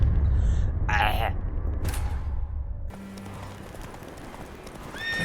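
Horse hooves clip-clop in The Witcher 3, a rhythmic clatter of steps under game music and effects, fairly close, with a few louder sound bursts and a shift in the background partway through.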